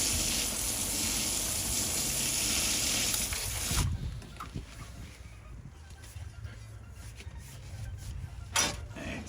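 Water gushes steadily into a post hole of quick-set concrete mix for about four seconds, a loud close rushing pour that stops abruptly, leaving quieter scraping and handling sounds.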